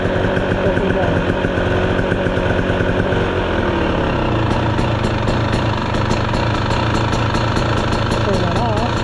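A 2023 KTM 300 XC dirt bike engine runs steadily at barely open throttle, a continuous close two-stroke drone with a faint rise in pitch midway and no break.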